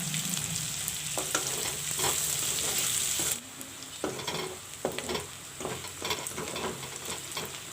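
Onions frying with bay leaves in a pan give a steady close sizzle and crackle, broken by scattered clicks and scrapes of stirring; no voices.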